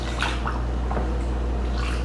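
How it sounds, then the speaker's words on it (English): Tap water running into a plastic bottle, a close, continuous gurgling pour with a few bubbly pulses over a steady low hum, no voices. "Put water in there."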